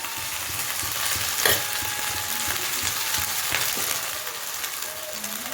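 Rice frying in a pan with chutney mixed in, producing a loud, dense, continuous sizzle with occasional spoon scrapes and clicks, heard close up and without any voices.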